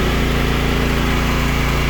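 Two Predator 9500 generators run in parallel to power a food trailer, giving a steady, loud, close engine drone with a fast regular pulse and no pauses.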